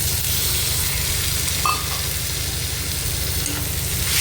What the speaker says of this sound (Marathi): चांगलं गुलाबी रंगावर येईपर्यंत परतून घेऊया कांदा आणि लसूण